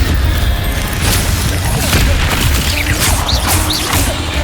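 Incendio and Expelliarmus spells strike in Hogwarts Legacy, producing loud crashing magical blasts and whooshing bursts in quick succession over a dense, noisy game soundtrack.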